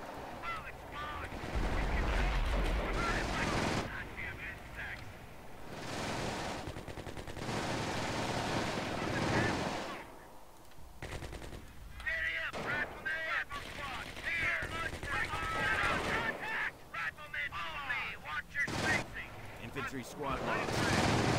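Machine gun nest opening up in the Company of Heroes game, bursts of automatic fire rattling amid battle noise for a long stretch, with someone talking excitedly over much of it.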